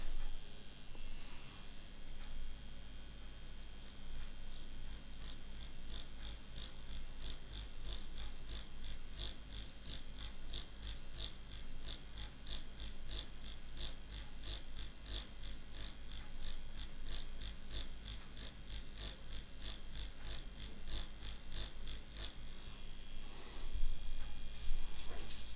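A Yilong F5 wireless tattoo pen buzzing steadily with a fast, even mechanical pulse, quiet and close, running continuously for a long stretch.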